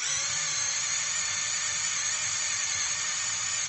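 Compact cordless drill-driver switched to low speed, high-torque mode and driving a drill bit, giving a steady, even, high-pitched whine that holds constant throughout without speech.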